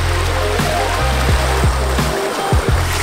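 Water rushing down a natural rock water slide in Langkawi, Malaysia, a steady loud outdoor stream with a continuous broadband wash and some lower rumbling throughout.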